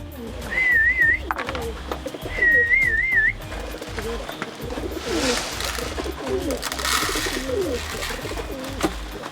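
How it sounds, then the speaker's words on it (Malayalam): Pigeons cooing while eating food: soft, repeated low coos in a steady, busy rhythm close by, with two short whistled phrases early on. "എല്ലാ പ്രാവുകളും ഇപ്പോൾ ഫുഡൊക്കെ കഴിച്ചിട്ടുണ്ട്"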